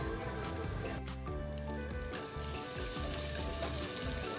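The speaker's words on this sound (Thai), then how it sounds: "ผัดพริกกับกระเทียมแป๊บนึงค่ะ" Chili and garlic stir-fry in a little oil, a continuous fairly quiet sizzle with soft stirring movements throughout.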